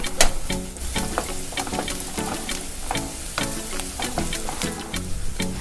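Chopped garlic sautéing in a pan for a North Indian dal fry, a steady close sizzle broken by repeated sharp scraping and stirring strokes of a spoon, with no voices.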